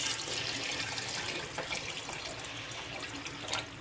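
Water pours steadily into a cooking pot of soaked rice for a mutton biryani made outdoors in a village, a continuous splashing rush lasting several seconds with no voices.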